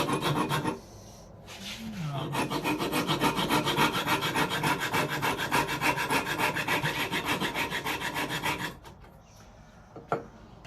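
A file or rasp scrapes back and forth across a wooden guitar bridge clamped to a bench, giving a steady run of rhythmic gritty strokes, close and loud, with brief pauses at the start and end.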